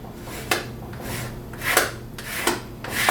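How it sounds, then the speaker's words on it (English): A squeegee is rubbed over tape laid on a concrete brick. Several short, scraping strokes come at irregular intervals, close and moderately loud, with no voices. "Take a squeegee."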